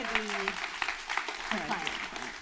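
Applause from an audience as a volunteer comes up on stage during a presentation, a brief burst of clapping with voices talking over it.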